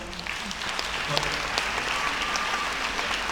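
An audience at a college talk by Newark's mayor breaks into sustained clapping, a dense, even wash of applause throughout with a voice faintly underneath.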